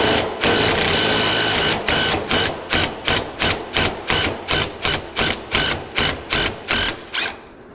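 A wrench on a drive shaft support bearing runs in a long continuous whir and then in a rapid series of short, even bursts with brief gaps, loud and close.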